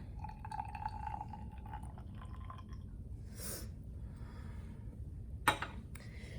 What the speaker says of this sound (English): So I'm going to very carefully pour my vinegar into my graduated cylinder all the way up to the 50 ml mark.